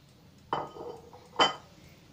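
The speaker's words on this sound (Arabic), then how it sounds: "هاخد البطاطس المحمرة بتاعتي كلها وانزلها في الصينية الطاجن بتاعي او في البايركس بتاعي اهو" Fried potatoes are tipped into a glass Pyrex baking dish for an Italian-style pasticcio, giving two short, close clinks of potatoes and utensil against glass in an otherwise quiet kitchen.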